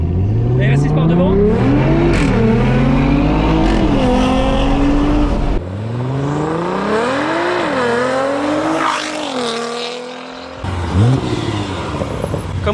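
A 700 HP Audi RS6 and a 700 HP Nissan GTR accelerating hard in a drag race, loud engines climbing through gear changes with rising and dropping pitch, roaring close with excited talk layered over it.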